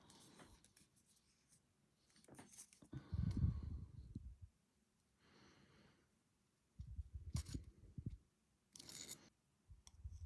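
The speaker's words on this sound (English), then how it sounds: "And this is just ordinary scissors." Ordinary scissors cut through craft material for a doll house in a few short bursts of snipping and rustling, close and fairly quiet, with pauses between the cuts.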